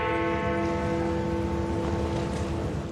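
A deep bell rings with a long, sustained resonant hum that hangs steadily throughout, loud and close, with no talking.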